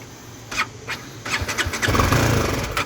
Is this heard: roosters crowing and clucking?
no